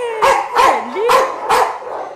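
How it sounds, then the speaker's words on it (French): A dog at an animal shelter gives four sharp barks in a quick, evenly spaced series, close and loud, with no talk. "T'es moins impressionnant quand même quand t'aboies."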